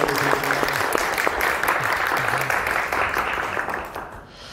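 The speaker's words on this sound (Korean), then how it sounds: "우리 이렇게 큰 박수로" Congregation applause during a church worship service, steady dense clapping from a sizable group that holds for several seconds, with faint sustained tones beneath, then fades toward the end.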